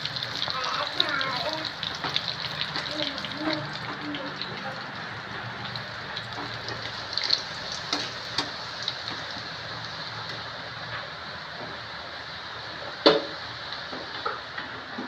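Garlic frying in hot oil as a tempering for shepu (dill) bhaji, a steady broadband sizzle with small crackling pops throughout and a louder spit near the end, close and continuous.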